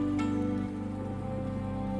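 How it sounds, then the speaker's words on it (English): Steady acid rain falls in the video game Universe for Sale, a dense, even patter that holds constant throughout, with a low tonal ambient hum beneath it. "can you at least wait until it stops raining?"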